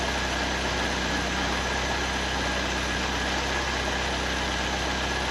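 A 1931 Ford Model A coupe hot rod with a Ford 2.3L engine idles while warming up, a constant low rumble and faint whine, unchanging throughout, no voices present.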